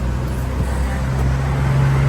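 A Toyota Fortuner engine runs near and steady with a low rumbling hum, and its tone firms up and grows slightly louder through the second half, with no talk over it.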